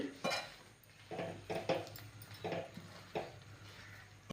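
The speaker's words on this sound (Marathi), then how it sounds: "आता हे सर्व व्यवस्थित मिक्स करून घ्यायचं आहे" A spoon scrapes and clinks against a metal kadhai in irregular strokes while mixing modak ingredients with almonds and pistachios, close and fairly quiet, with no talking.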